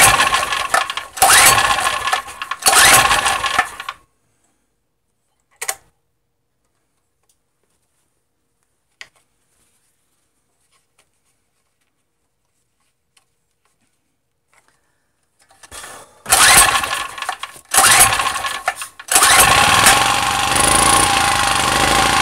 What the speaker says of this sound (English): generator. Guess what? It's not starting.